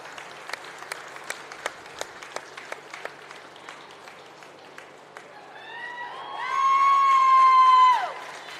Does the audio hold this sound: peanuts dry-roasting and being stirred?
no